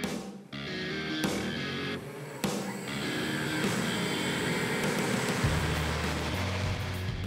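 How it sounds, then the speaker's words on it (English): Kitty Hawk Flyer beta aircraft, a light electric flyer, in flight during testing, giving a steady whining multi-tone drone with shifting pitch after a few abrupt cuts early on. "We're here testing this beta aircraft."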